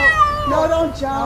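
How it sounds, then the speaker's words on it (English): A frightened cat stuck atop a utility power pole near live wires meows loudly in drawn-out, wavering cries while someone speaks briefly nearby. "climbs up, and coaxes the scared cat."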